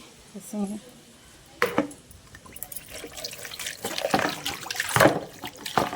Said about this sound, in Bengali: চলো, হাতটা ধুয়ে আসি।